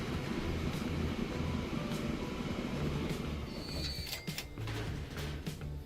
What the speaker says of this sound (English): You'll see this train come in here.